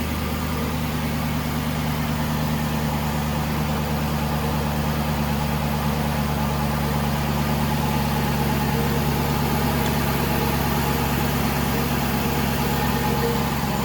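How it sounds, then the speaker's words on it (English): A 2012 Aston Martin V8 Vantage idles just after a cold start, a steady, even low rumble with constant drone, unbroken and close throughout, with no talk. "Quiet engine, runs phenomenally."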